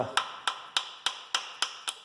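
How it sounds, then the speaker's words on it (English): Metal tool tapping the main bearing caps loose on a Mercedes OM617 diesel engine during a rebuild: seven sharp, evenly spaced knocks, close and clear, with no talk. "I'm going to knock off the rest of these caps."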